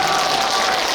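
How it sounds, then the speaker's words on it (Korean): An audience at a live event cheers and claps in a dense, continuous wash of applause and crowd noise, loud and steady throughout the brief moment. "이렇게 여러 가지 환호를 보내주시니까"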